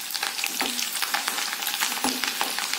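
Garlic with cinnamon and cloves frying in hot oil in a pan, a dense continuous sizzle with stirring scrapes, close and loud.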